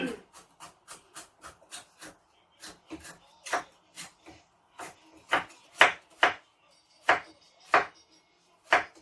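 A knife chops through bitter gourd (ampalaya) on a cutting board, giving about sixteen sharp, separate strikes at an uneven pace. The cuts start light and grow heavier and louder toward the end, with no other sound between them.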